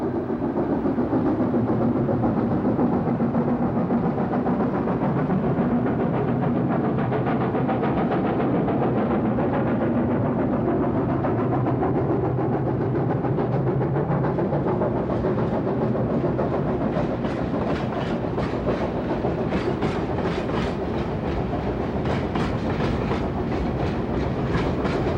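A train crosses the Tian Shan mountains by railway, its continuous steady rumble filling the whole stretch with rhythmic wheel clatter growing clearer toward the end; no one speaks.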